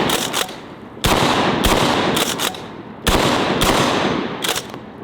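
A DP-12 double-barrel bullpup shotgun firing outdoors, several loud close blasts with sharp onsets in quick pairs, each leaving a lingering roar.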